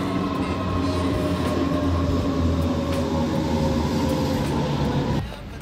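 A train rolls into a station in Frankfurt, a loud steady rumble of wheels on rails with faint squeals, close by, cutting off abruptly at the end.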